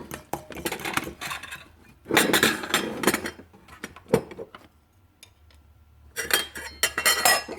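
A spoon scrapes and clinks inside a container of thick homemade flax seed gel, in irregular bursts of stirring separated by short pauses.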